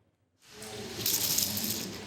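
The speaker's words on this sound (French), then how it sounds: "Ce bruit des petits carrés de plastique qui s'entrechoquent vous est familier" Small hard plastic pieces clatter and clink together in a continuous rattling jumble, like tiles being shuffled, starting after a brief silence.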